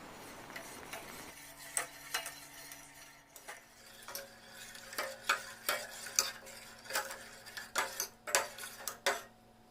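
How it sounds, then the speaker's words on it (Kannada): A ladle repeatedly stirs chana dal payasam as it comes to a boil in a pot, producing a steady series of close scraping and knocking strokes that grow louder and more regular, heard alone with no talking. "ಕುದಿಯುವವರೆಗೆ ಸೌಟಲ್ಲಿ ಈ ಥರ ತಿರುಗಿಸ್ತಾ ಇರಬೇಕು"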